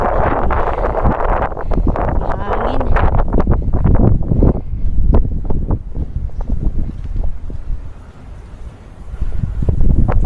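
Strong wind on Victoria Peak in Hong Kong buffets the microphone in loud, rumbling gusts. It eases briefly near the end, then surges again.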